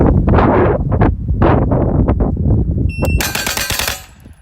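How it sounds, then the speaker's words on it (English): A JP5 Steel Challenge pistol fires a rapid string of shots into steel targets at 10 yards, sharp cracks coming in quick succession, each with a metallic ring, then a brief ringing tail as the string ends. "what the video is me shooting into steel at 10 yards"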